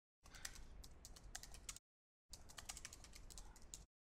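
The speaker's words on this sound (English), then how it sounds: "I'll just type it quickly." Quick typing on a computer keyboard comes in two short bursts of rapid, soft clicking separated by a brief silence, close and fairly faint with no voices.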